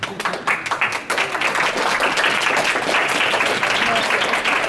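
Audience applause at a furry convention fursuit game show, sparse claps at first that quickly build into full, steady clapping from a crowd hall.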